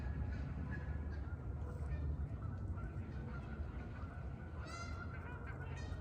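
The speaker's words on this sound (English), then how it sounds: "And then we hear the geese" Faint, distant honking of geese, a few calls rising over a low outdoor rumble, with a brief burst of honks near the end.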